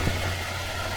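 A 1966 Dodge Polara's 383 two-barrel V8 with a large air cleaner idles steadily, a low, even rumble with a constant hum and no speech.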